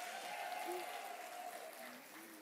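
Audience applause fills the room as steady, dense clapping throughout, fairly faint and distant, with a voice faintly audible in the mix.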